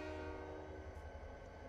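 Train horn from the video game Train Simulator 2019, a sustained steady tonal blast heard quietly over low rumble, holding without a break through the moment.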